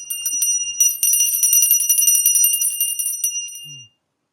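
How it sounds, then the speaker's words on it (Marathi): A small handheld puja bell rung during Gudi Padwa worship at a home in Konkan, a rapid, continuous bright metallic ringing lasting several seconds, close and loud, with a brief pause near the start before it ends abruptly. "मग घंटी वाजव फक्त"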